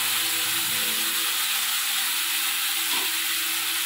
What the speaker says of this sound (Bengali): হালকা করে আমি ভেজে নেব